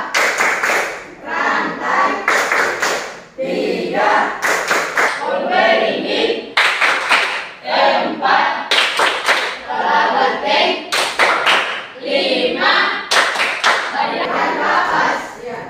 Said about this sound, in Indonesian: Tepuk simbol Pancasila.